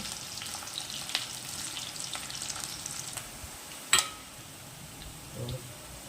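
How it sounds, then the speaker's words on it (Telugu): Food fries in a pan until browning, a steady soft sizzle with scattered ticks and a sharper scrape or clatter midway, heard close and alone. "దీన్ని కొంచెం వేగనిద్దాం"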